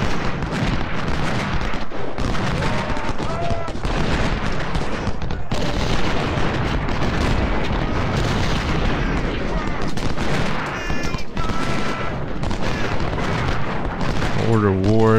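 Battle gunfire in the Ultimate General Civil War game at First Bull Run, a continuous dense roar of musket volleys and cannon booms over the whole stretch, with a voice talking over it.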